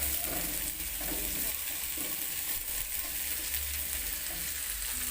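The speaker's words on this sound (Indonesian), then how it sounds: "Ditumis kembali hingga cabenya layu." Shallots, garlic and chili stir-fry in a hot pan, a dense, steady sizzle with faint scraping of the stirring utensil, close and continuous with no talk.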